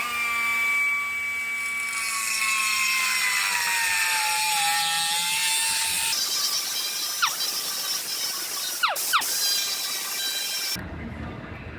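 Power saw cutting a 40mm piece of old scrap metal for a backer plate, a loud steady whine running most of the clip, its pitch shifting, with a few sharp scraping sweeps near the end.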